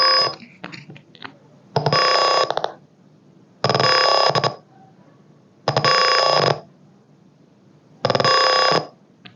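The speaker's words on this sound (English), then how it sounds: "if I cross this value which will more than 650, it will give me the buzzer." An Arduino gas and smoke sensor buzzer sounds in four loud, evenly spaced bursts of steady ringing tone, each lasting under a second, with quiet gaps between them.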